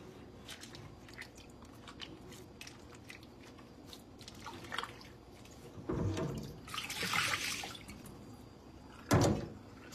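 Homemade butter is squeezed and kneaded by hand in cold water, giving wet squishing and sloshing that come in irregular bursts and grow louder toward the end, with a few splashes and drips.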